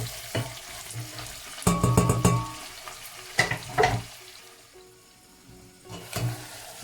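Onions brown in a pan for pilau rice, a soft steady sizzle with bursts of louder frying and stirring scrapes as they are turned, then quieter stretches of gentle crackle.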